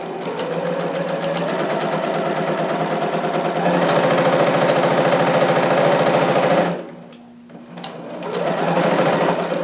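A home sewing machine stitches fabric for a harem jumpsuit in a steady, fast mechanical whir. It stops briefly near the end, then starts running again.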